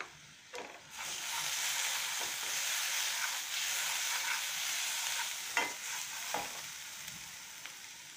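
Onions frying and being stirred with turmeric in a pan for a spicy bitter gourd curry, with a steady close sizzle and a few scraping stirs of the spoon, no talk.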